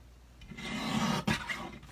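Scissors or a blade trimming excess white-backed paper from a card panel, a close, steady rasping cut lasting about a second with a brief pause and a shorter follow-up scrape.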